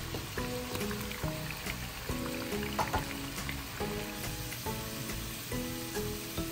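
Potatoes fry in a pan with steady crackling sizzle, backed by a constant, lightly stirred oil hiss and faint background music.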